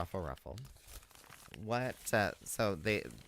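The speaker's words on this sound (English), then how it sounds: "So this is a paper bag." A paper bag crinkles and rustles in short bursts while someone talks over it, the crumpling fairly quiet beneath her voice.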